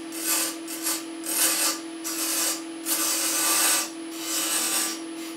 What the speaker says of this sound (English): scraping and rolling that in now.